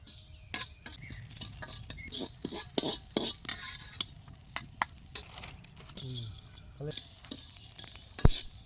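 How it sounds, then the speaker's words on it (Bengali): Whole spices fry in a little oil for a chutney: radhuni, cumin, coriander seeds, dried chilli and bay leaf. A faint, low sizzle runs under spoon taps and stirring clatter. "এরপরে ভাজবো জিরে রাঁধুনি ধনে শুকনো লঙ্কা তেজপাতা তো আমাদের মশলাটা ভাজা হয়ে যাবে"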